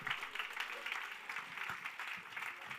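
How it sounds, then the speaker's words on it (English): An audience applauds at an award ceremony for a hackathon grand final, with sustained clapping from a large crowd in a hall, steady and fairly full throughout. "Big round of applause."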